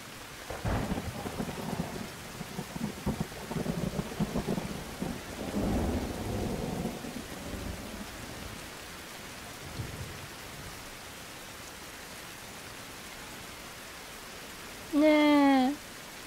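Thunderstorm in a survival game, with rain pattering steadily and several rolling thunder rumbles in the first half before the downpour thins to a quieter hiss; a brief tonal game sound appears near the end.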